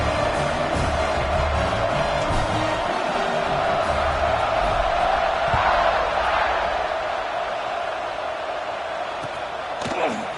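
A football stadium crowd roars steadily after a touchdown drive, a dense wall of cheering and shouting that holds at a loud level throughout with no break.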